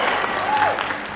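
Audience clapping at a podcast festival awards ceremony, a brief steady wash of many hands with a faint voice or tone briefly mixed in.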